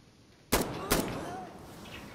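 Two sharp gunshots crack out in Insurgency: Sandstorm, the first at about half a second and the second shortly after, both loud and close, each followed by a lingering reverberant tail.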